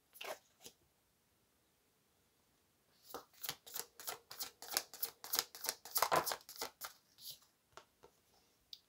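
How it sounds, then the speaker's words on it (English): Tarot cards being shuffled close up: a couple of soft riffles, a pause, then a long run of rapid rhythmic flicks and slaps that grow louder before tapering off, with no talking. "So when I was shuffling here, preparing for the reading"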